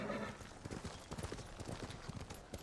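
Horse hooves clip-clop steadily in Ghost of Tsushima, a close, rhythmic run of hoof beats with a brief whinny hinted near the start, heard alone without talk.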